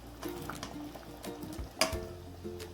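Potatoes are stirred into a dum aloo gravy in a pan, a faint soft sizzle with scraping and stirring knocks, one sharper clank near the end.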